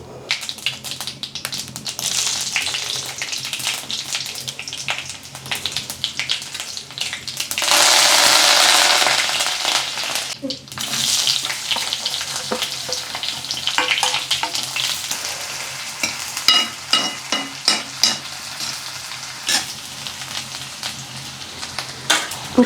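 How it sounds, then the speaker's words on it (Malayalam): Mustard seeds frying in a clay pan, a close crackling sizzle with a louder burst of hissing spitting partway through, followed by scattered sharp pops and stirring clatter, no voices. "ഇനി നമുക്ക് ചട്ടി അടുപ്പത്ത് വെച്ച് ഒന്ന് കടുക് വറക്കാം ആദ്യം"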